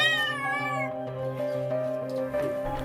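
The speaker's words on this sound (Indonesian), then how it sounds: "Petugas berupaya mengevakuasi seekor kucing yang tercebur ke dalam sumur itu." A cat trapped after falling into a well meows loudly and plaintively, a long wavering cry followed by sustained drawn-out yowling, close and clear.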